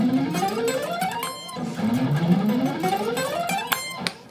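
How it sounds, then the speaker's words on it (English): Electric guitar runs four-note-per-string scale patterns in quick ascending and descending lines, notes clearly articulated and moderately loud, alone without talk. "play four note per string scales without having to do all the big stretchy stuff like this"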